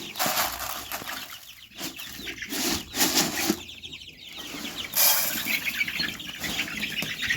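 A flock of chickens clucks and squawks close by, with bursts of wing flapping and rustling scattered throughout.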